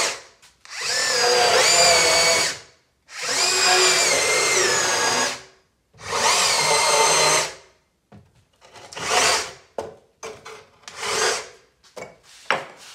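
A Bosch 12V nano blade saw cuts a plug hole in wood with three long, loud buzzing bursts separated by short pauses. These are followed by shorter, choppier cutting strokes and scraping.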